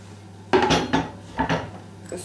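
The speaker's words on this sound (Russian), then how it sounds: "Огурец нарезаю вот такими вот тоненькими четвертинками и отправляю в емкость." Thin quarter slices of cucumber tipped into a bowl while making an avocado and cod liver salad, giving a few close clattering knocks and scrapes against the dish in two main bursts, then a faint tap at the end.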